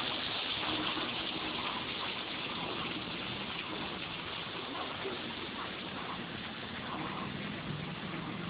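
A waterfall cascade on the Normandy coast gives a constant, dense rushing gush of falling water that stays steady and fairly loud throughout.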